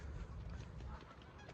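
Geese honk outdoors on a visit to Regina, with faint, steady calls drifting from a moderate distance over low ambient rumble.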